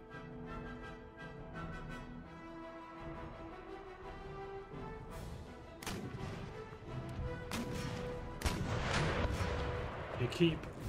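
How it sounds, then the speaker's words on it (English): Cannon and artillery fire from a Napoleonic-era battle in Empire Total War, with 12-pounder guns engaging enemy artillery: scattered booming shots and sharp cracks over a continuous battlefield din and music, growing denser and louder toward the end. "getting my 12 pounders to engage their artillery because they're starting to pound our line"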